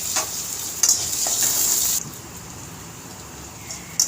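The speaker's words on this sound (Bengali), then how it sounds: "ওই ছোটো মাপের যে পেঁয়াজটা কুচিয়ে রেখেছিলাম সেটা আমি তেলের মধ্যে ছেড়ে দিলাম" Finely chopped onion dropped into hot oil with nigella seeds sizzles close up in a steady, bright hiss, briefly louder at first and then settling into a softer continuous fry.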